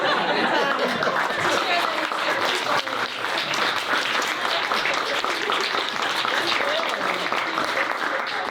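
A crowd applauds an alumni panel at a fall event, steady full-room clapping that holds evenly throughout, with light chuckles and chatter mixed underneath.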